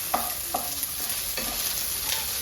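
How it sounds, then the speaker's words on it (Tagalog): Garlic and onion sauté for chicken adobo, several rhythmic spatula strokes scraping the pan over a continuous soft sizzle, near and with no talking. "Ayan, ginisa yung bawang at sibuyas."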